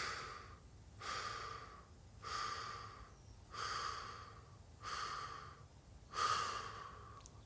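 Slow breathing during a relaxation exercise: five or six even, airy breaths at a steady rhythm about every second and a half, close to the ear and fairly soft, with no talking.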